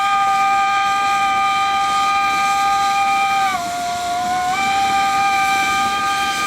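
A Kalahari and an NGG 13 Garratt narrow-gauge steam locomotive sound a loud, sustained chime-like steam whistle that dips in pitch midway before recovering, with steady steam hiss underneath.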